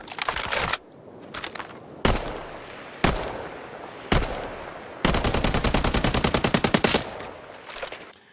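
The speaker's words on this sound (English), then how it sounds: "listen to this AK gun real quick" An AK rifle fires in the video game Highguard: several short, sharp bursts are separated by brief gaps, then one long, rapid volley ends in a few final shots. The gunfire is loud and close, with no talking.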